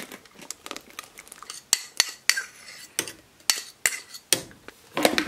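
Melted butter being mixed into lemon cake batter of whipped eggs and sugar in a mixing bowl, with repeated sharp clinks of a utensil against the bowl in an irregular rhythm, close and fairly loud, with no talking.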